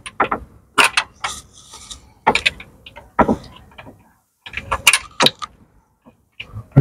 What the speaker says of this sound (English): Now I have to get the 3/8 ratchets to give it the final fastening